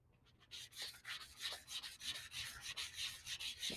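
Epoxy-coated tumbler surface being roughed up by hand with sandpaper: steady, rhythmic rasping strokes repeating close to the listener, with no talking.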